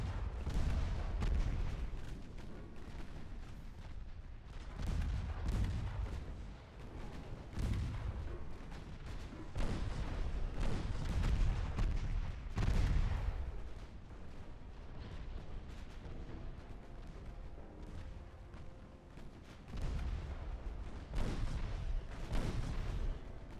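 Warship guns firing in the naval video game Ultimate Admiral Dreadnoughts, heavy booming salvos at irregular intervals over a constant low rumble, fairly faint and without talk.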